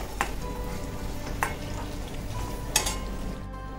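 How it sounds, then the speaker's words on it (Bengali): Paneer pieces frying in hot oil in a pan, a steady soft sizzle with three brief sharper clinks or scrapes as they are stirred and lifted out, close by with no voices. "পনিরগুলো এখন আমার একদম ফ্রাই করা হয়ে গিয়েছে, এবারে আমি পনিরগুলোকে সব তুলে নিচ্ছি"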